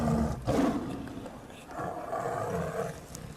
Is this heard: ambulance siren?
no